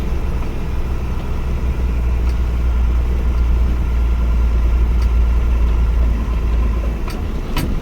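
Car moving along a dead-end road beside roadworks in Lincolnshire, a steady low engine rumble that stays loud and fairly close throughout, with no voices.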